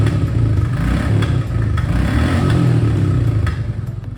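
A Royal Enfield Classic 350 motorcycle engine and exhaust idle at low revs with a steady, thumping, close rumble and no voices.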